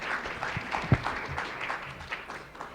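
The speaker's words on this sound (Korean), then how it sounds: "큰 박수로 환영해 주시기 바랍니다." Applause from a conference audience, a steady patter of many hands clapping at moderate volume, continuing throughout without a pause.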